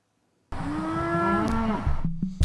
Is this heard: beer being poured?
no